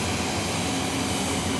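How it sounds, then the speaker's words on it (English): A Gulfstream G600 private jet rolls for takeoff at Zurich Airport, its engines making a steady, fairly distant roar with no voices over it. "So Gulfstream is rolling."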